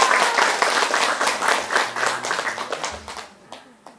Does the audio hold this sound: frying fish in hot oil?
no